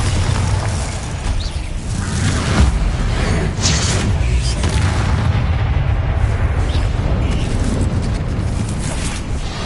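Bombarda explosion spells go off in Hogwarts Legacy, a dense, loud rumbling blast wash with bursting crackles layered over game music and effects that fill the whole stretch.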